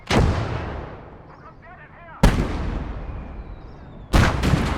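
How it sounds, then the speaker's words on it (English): Artillery in the Gates of Hell World War II game fires three loud, booming rounds spaced about two seconds apart, each with a long rumbling tail. Brief faint sounds occur between the shots. "There's artillery over there."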